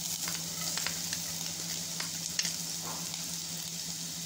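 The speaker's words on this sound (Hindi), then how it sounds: "तो यहाँ पे जैसे ही ऑयल गर्म हो जाए हम इसमें ऐड करेंगे जिंजर और गार्लिक।" Ginger and garlic frying in hot oil in a pan over a high flame for Chinese vegetable noodles: a steady, soft sizzle and hiss with occasional light pops and stirring clicks.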